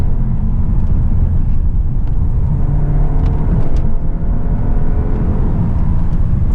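A 2019 VW Arteon R-Line, front-wheel drive and shifted into manual mode, accelerates hard with a loud, throaty, continuous engine rumble from inside the cabin, a low droning tone that rises steadily.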